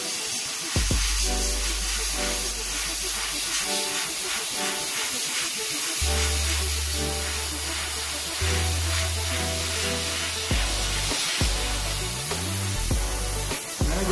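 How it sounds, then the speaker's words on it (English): An airbrush sprays paint onto a hoodie as a continuous close hiss of air, with a rumbling compressor-like hum beneath that shifts in pitch throughout. "That's actually why it's actually a good thing to have like overspray, so it looks more like spray airbrush"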